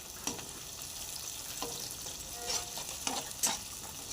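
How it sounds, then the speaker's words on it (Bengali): Onion and capsicum frying in a pan for chilli chicken, a low continuous sizzle broken by several faint stirring clinks and scrapes at irregular moments. "এবার পেঁয়াজ ক্যাপসিকাম ভাজা করছি"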